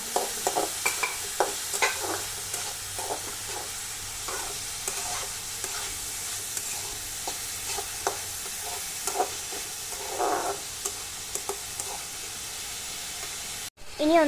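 Carrots and capsicum stir-fried in a pan for fried rice, with a steady sizzle and hiss under repeated scraping and stirring strokes, close and fairly loud throughout, with no talk.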